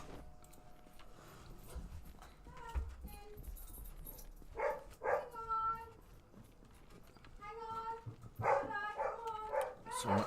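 Dogs bark in a house after the front doorbell rings in a multiplayer Project Zomboid base in Louisville, several sharp barks in two clusters over a low background with faint talk.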